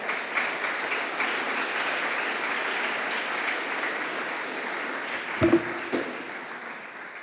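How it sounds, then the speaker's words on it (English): An audience at a Nakba Day event in London claps steadily in a broad, even roar of applause, with a couple of louder thumps near the end. "Give him a clap."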